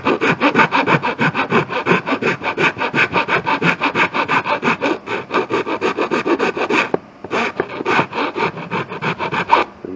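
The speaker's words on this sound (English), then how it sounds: "I just take my aluminum file from the welding table there and" An aluminum file is worked back and forth to enlarge an opening cut in a panel on a Ford diesel truck build, with steady, rapid rasping strokes close up, a brief pause near the end, then more filing.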